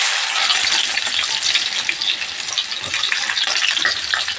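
Onions frying in the same oil previously used to fry fish, a dense, steady crackling sizzle close up, with faint stirring rustles and no talking.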